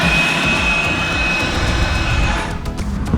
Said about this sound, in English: Grab the air blower, we'll see if we can blow all the cobwebs out of it